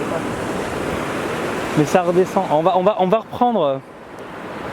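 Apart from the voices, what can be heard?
sea waves washing over the promenade in Salou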